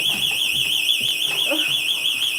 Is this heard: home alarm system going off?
yes